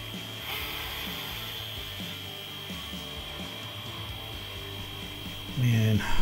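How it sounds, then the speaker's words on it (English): A micro lathe spins while a small drill bores a hole in steel, a steady close whine with repeated rhythmic scraping chatter and a brief louder surge near the end. "Next, I need to drill the hole in the middle."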